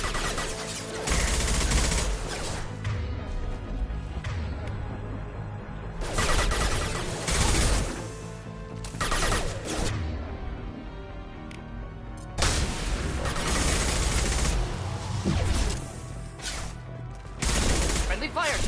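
Loud sci-fi gunfire in the shooter Mass Effect 2, coming in repeated dense bursts separated by short lulls, with some booming impacts mixed in over roughly twenty seconds.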